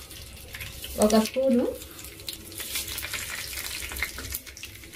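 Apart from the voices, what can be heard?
mustard seeds sizzling in hot oil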